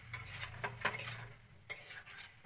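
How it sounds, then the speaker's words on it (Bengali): Fried potatoes, pointed gourd and peas are stirred into spices in a pan, giving quiet scraping strokes and a few sharp utensil clinks against the metal, with a faint sizzle between them. "এখন আলু মটর, আলু পটল ভাজা আর চানা মটর ভাজা সবজি দিয়ে দিই মধ্যে মশলার মধ্যে।"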